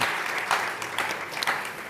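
Audience at the Ghana-UK Investment Summit 2026 ESG panel clapping, a brief burst of scattered applause from a conference room crowd, moderately loud and fairly close.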